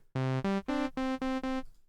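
Five clean, simple Twin 3 synthesizer notes from one oscillator in sequence, each a steady tone with a bright buzzy edge, short gaps between them, dry and close.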